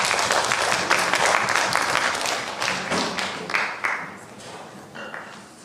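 Applause for fourth graders at a school district math competition, loud close clapping that starts dense and gradually thins into scattered individual claps.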